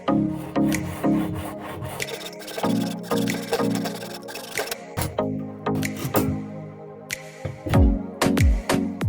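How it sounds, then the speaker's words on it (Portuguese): A blade slowly cuts through the threaded neck of a PET plastic bottle, making repeated rough rubbing and rasping strokes in an uneven rhythm, close and fairly loud, with occasional sharp clicks and cracks. "A gente vai cortar essa parte da rosca aqui, ó. Vamos cortar essa parte da rosca e lixar."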